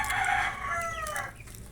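A rooster crows loudly and close by in one drawn-out call, trailing off at the end, with no talking.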